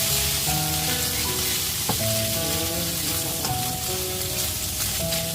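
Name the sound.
onion and garlic sautéing in a pan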